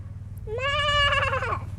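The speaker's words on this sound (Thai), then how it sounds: "ลูกแกะน้อยนะคะ" A single drawn-out bleat from a young lamb on a farm, close and clear, rising and then wavering before it fades, over a low steady background hum.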